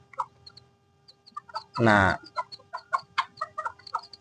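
A small bantam hen clucks in a short series of close, clear calls, with one louder, longer squawk partway through, while someone briefly speaks.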